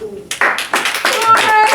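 A man applauds himself with a few sharp, close hand claps in quick succession at the end of a rap session with artificial intelligence, with his voice mixed in over the claps.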